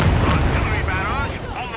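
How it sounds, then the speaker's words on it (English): Artillery barrage in the Company of Heroes 3 strategy game, a loud, continuous rumble of explosions and booms with talk over it. "Artillery barrage on the way."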